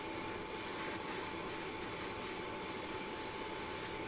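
Continuous hiss of an airbrush laying down a heavier wet coat of purple and electric blue paint, with short regular breaks in the spray as the trigger is released and pressed again.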